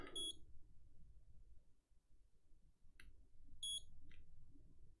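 A soldering rework station's timer sounds in two short bursts of high electronic beeps a few seconds apart, faint against a quiet low room hum.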